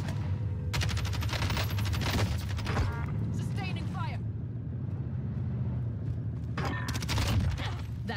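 Gunfire in Call of Duty Cold War Warzone: two loud bursts of rapid automatic fire, one near the start and another near the end, separated by quieter game sounds and players talking.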